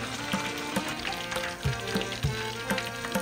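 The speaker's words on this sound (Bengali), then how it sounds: "ক্রিস্পি চিকেন ফ্রাই একে একে ভেজে ভেজে ওঠানো হচ্ছে, তেল ঝরাচ্ছি।" Crispy chicken pieces frying in hot oil, heard as a steady close sizzle with soft rhythmic bubbling pops and faint clinks throughout.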